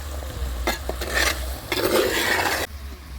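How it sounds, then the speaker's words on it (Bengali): Spices and tomato are stirred and sautéed in a pan for a rustic chicken curry, giving two bursts of scraping and sizzle over a low steady hum, close and moderately loud, with no voices. "এবার ভালো করে কষে নিচ্ছি আরেকবার"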